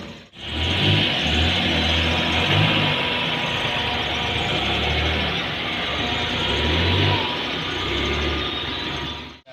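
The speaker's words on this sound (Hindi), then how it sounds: "अभी गाड़ी जो है ना वो अंदर टपाते हैं दरवाज़ा खोल के" A car drives in through an opened gate, its engine giving a steady, close, low hum with slight swells as it rolls slowly along.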